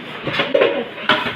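Dishes, pots and pans clatter in a home kitchen as they are washed, with a few sharp clinks and knocks standing out over running background noise; no one speaks.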